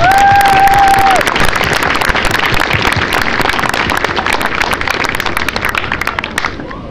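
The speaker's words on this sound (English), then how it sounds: "Let's all give her a round of applause." Audience applause at an outdoor Out of the Darkness walk event, loud and close, a crackling mass of clapping hands that keeps up steadily throughout with a slight fade near the end.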